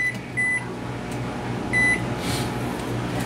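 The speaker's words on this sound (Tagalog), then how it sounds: "nilagay na sa microwave" A microwave oven runs while heating a chocolate mug cake, a steady hum underneath with two bright electronic beeps a little over a second apart.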